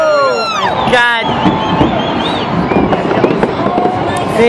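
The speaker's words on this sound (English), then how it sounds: "You can barely see the fireworks are going on at the same time as they are down here at the bay" New Year's Eve fireworks bursting over Copacabana Beach and the bay, whistling rockets and repeated cracks and booms at mid distance, with crowd noise and voices talking throughout.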